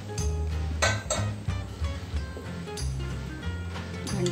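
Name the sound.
cake tin placed into a heated pressure cooker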